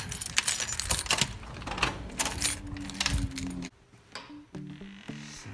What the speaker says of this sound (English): lucky for you all, I have keys to get in.